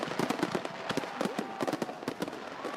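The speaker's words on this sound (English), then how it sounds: "Look, Penny, what do you think of these little firecrackers we just made?" Small homemade firecrackers go off in a quick crackling string of sharp pops and bangs, close and loud, lasting a few seconds.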